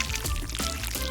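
Gooey gunk, actually paint, being poured into bubbles in a craft project: a short, continuous liquid pour with sloshing, glugging texture, close and fairly loud.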